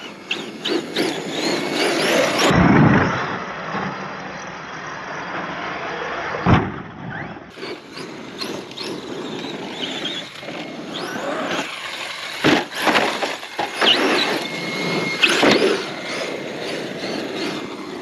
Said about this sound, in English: With all the speed, I can really get some distance with this RC car.